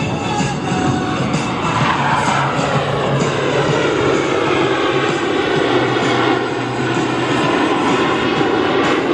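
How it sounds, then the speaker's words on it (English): Four Blue Angels F-18 jets fly the Diamond Roll together at about 400 mph at the Cleveland National Airshow, making a loud, unbroken roar of jet engines that fills the whole stretch. "All 4 aircraft flying as one in this graceful 360-degree rolling maneuver."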